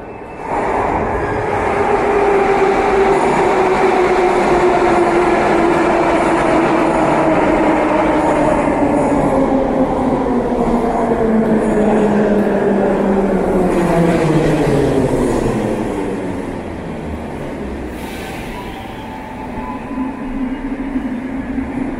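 A Moscow Metro train at Belorusskaya station: a loud, close rumble with a falling motor whine as the train slows along the platform, easing to a quieter hum near the end.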